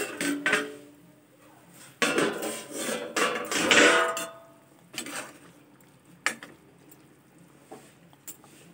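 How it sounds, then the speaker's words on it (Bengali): A metal lid is lifted off a cooking pot of simmering fish curry, giving close clattering clanks and scrapes in a couple of bursts, followed by quieter scattered taps and faint bubbling. "ঢাকা দিয়ে রেখেছিলাম, দেখি ঢাকাটা খুলে"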